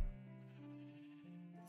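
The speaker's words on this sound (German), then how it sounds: "das sind jetzt die letzten Schafe hier" A Minecraft sheep bleats once in the blocky video game, a sustained, wavering tonal cry heard alone and fairly close, with no talk over it.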